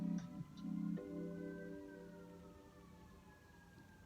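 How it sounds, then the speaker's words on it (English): An emergency vehicle siren wails outside, faint and distant, its rising and falling tone sustained over a low room hum. "It's like the siren keeps getting louder."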